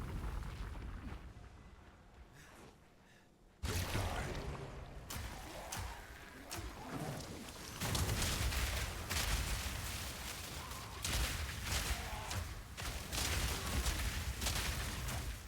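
Grenade blasts in Path of Exile 2 play as a dense run of booming explosions and crackling bursts, loud and continuous, with a sharp jump in intensity partway through and no talk.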